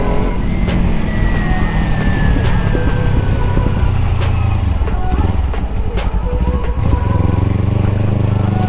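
A Kawasaki Ninja 300 motorcycle with a 300 cc inline engine runs loud and close for the whole stretch, holding a steady drone that swells and eases as it revs.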